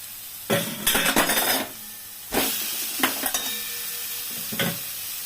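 Eggs hit a hot pan and crackle in short sizzling bursts, with scraping stirring and clinks of a utensil against the pan in separate spurts, close and fairly quiet between them.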